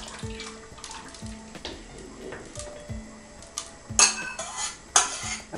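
Egg flan mixture poured from a kitchen vessel into a flan mold gives a steady liquid stream, punctuated by clinks of utensils and metal cookware and a couple of sharper knocks near the end.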